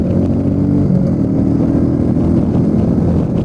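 A Royal Enfield Meteor 350 cruiser at about 80 km/h hums with a steady, loud engine drone and wind rush, constant with no break and no speech.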